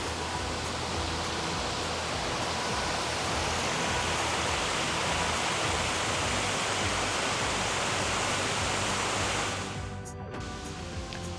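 Skanstupīte waterfall in Pļaviņas pouring in a loud, steady broadband roar of falling water, holding evenly before easing slightly near the end.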